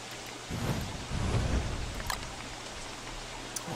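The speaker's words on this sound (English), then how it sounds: "The rain was real bad for us." Steady rain patter in the video game Don't Starve, with a low rumble swelling in the middle and a few brighter drip ticks near the end.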